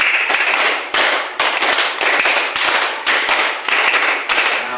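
A class of children claps a counted rhythm of three rounds of five, a quick, even run of loud, sharp group claps close by in a room.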